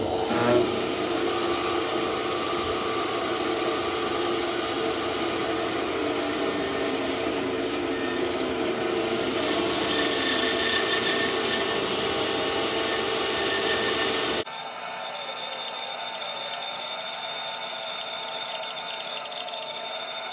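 A power tool cuts a notch in wood with a continuous, loud grinding buzz that runs unbroken, then shifts abruptly to a thinner, steadier whine partway through.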